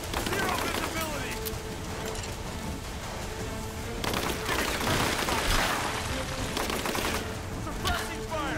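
Gunfire from the Rise of the Tomb Raider video game. Rapid bursts of automatic fire and scattered shots crackle continuously over a dense battle mix, with game voices underneath.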